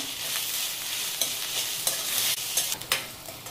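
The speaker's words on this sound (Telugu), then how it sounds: "బాగా వేగే వరకు సన్న మంట మీదనే వేయించాలి" Slit green chillies and chopped tomatoes fry over a low flame for an Andhra-style prawn and broad bean curry, giving a steady close sizzle with a few soft stirring scrapes and no voices.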